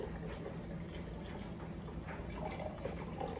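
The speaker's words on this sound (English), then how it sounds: "I'm gonna drain off the majority of this water first." Water drained off a container of soaking eggplant seeds, a steady close trickling and splashing flow that runs unbroken throughout without any voices.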